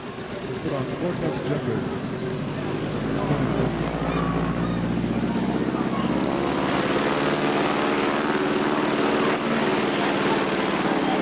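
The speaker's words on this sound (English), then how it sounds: "Notice how the pilot works the tail of this highly modified plane to help coax it off the ground." A highly modified STOL bush plane in Alaska takes off, its propeller engine building to a loud, steady roar that holds from start to finish, with a wide broadband wash and a low rumble underneath.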